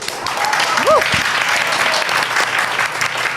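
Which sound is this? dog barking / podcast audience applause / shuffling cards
podcast audience applause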